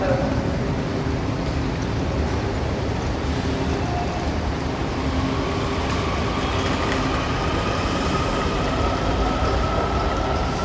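A diesel maintenance-of-way train carrying an IndyCar rumbles steadily past a Metro platform at close range, a continuous heavy mechanical drone with a faint high whine above it, loud throughout.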